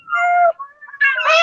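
An electronic cat in a maker project's box meows twice, the first call drawn out and falling, the second rising and loud, close up with no talk over it.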